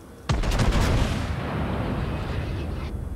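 Enemy ships' naval guns firing in World of Warships: a sudden heavy boom bursts out and rolls into a long rumbling roar that slowly fades, loud and close.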